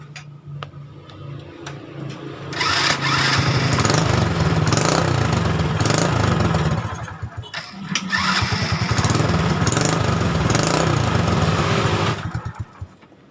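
A Honda Supra Fit motorcycle fitted with a Suzuki Shogun CDI is kicked into life twice. Each time it is a close, loud burst of engine running for several seconds, with a pause between the two runs and no speech.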